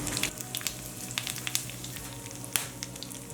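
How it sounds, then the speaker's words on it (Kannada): Mustard seeds, chilli and curry leaves spitting in hot oil in a kadai for pepper rasam, giving a quiet steady crackle with scattered sharp pops and small spatters. "ಸಾಸಿವೆ ಹಾಕ್ಕೊಳ್ಳೋಣ ಮೆಣಸಿನ್ಕಾಯಿ ಸ್ವಲ್ಪ ಕರಿಬೇವು"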